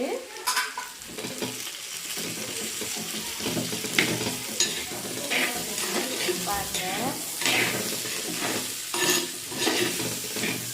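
Small onions sautéing in a pan for pavakkai theeyal, with a steady sizzle and frying hiss and frequent scrapes and taps of a spoon stirring, close by and with no talk.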